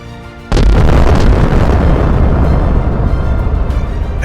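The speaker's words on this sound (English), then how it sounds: "Su-24 fired 2 missiles in an instant." Su-24 firing two missiles followed by an explosion: a sudden loud blast erupts after a brief quieter lead-in, then a sustained rumbling roar that slowly eases.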